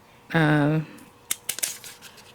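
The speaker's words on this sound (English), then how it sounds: "Scissors, scissors." Scissors cut paper during a stamp and die craft session, giving a few quick, close snips just after a brief voice.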